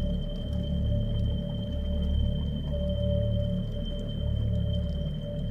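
Whale vocalizations captured underwater by an instrument tag attached to a whale, heard as steady sustained tonal hums over a constant low rumble of water noise and distant ship drone throughout.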